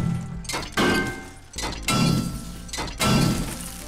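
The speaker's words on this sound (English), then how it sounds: "when you break something down with the wrench" Breaking down an object with a wrench in the video game 7 Days To Die: three loud, evenly spaced metallic crunching impacts with glassy shattering, each followed by a brief decay, no talk.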